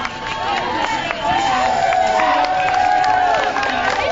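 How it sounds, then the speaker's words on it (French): Spectators at the Ironman triathlon in Hawaii cheer and applaud passing athletes, a steady, dense wash of crowd noise with shouts and whistles rising over it throughout. "Tous ces athlètes largement salués, applaudis par tous les spectateurs présents ici à Hawaï."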